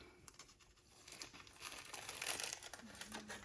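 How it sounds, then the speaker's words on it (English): Crinkling and peeling of tape and warm blowout paper being pulled off a freshly sublimated golf towel, a soft papery rustle that builds and grows louder toward the end, close by. "Just going to untape it."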